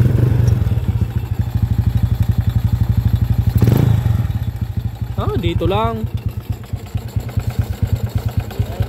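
A motorcycle engine awaiting overhaul runs at a loud, close idle with a rapid rhythmic thumping and a rattling clatter suspected to come from the timing chain, while people talk briefly over it.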